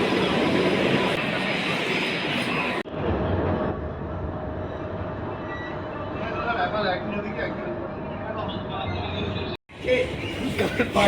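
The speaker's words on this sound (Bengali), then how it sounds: "তো আজ আমাদের মেট্রো ট্রেন বি চলে এসছে" Metro train pulling into a station at Biswa Bangla Gate, a steady loud rumble and rolling drone with a brief cut near the end, voices chattering on the platform over it.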